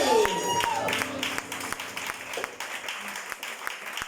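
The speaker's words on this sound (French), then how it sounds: "Acclamons encore pour Jésus." A church congregation claps for Jesus, a rhythmic run of claps with crowd noise and some singing or voice tones underneath, fairly loud throughout.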